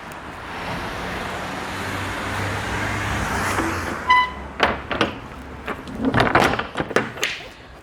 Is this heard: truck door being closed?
yes